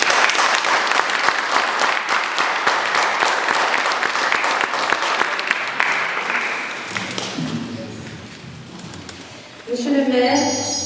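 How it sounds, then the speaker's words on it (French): Audience applause at an art exhibition opening in Doullens, dense and sustained for several seconds, then thinning out into scattered claps and murmuring voices before a voice begins to speak. "je voudrais qu'on applaudisse Janine Bernard Lecoq pour son passage"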